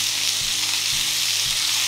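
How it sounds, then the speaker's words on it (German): Salmon fries in oil in a pan with a loud, dense, continuous sizzle, heard up close, with faint low thumps recurring underneath. "der Lachs brutzelt vor sich hin"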